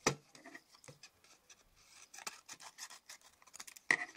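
Scissors trimming excess cardstock from a stamped Valentine card, a close run of crisp snipping and rasping paper cuts with small pauses, quiet and alone.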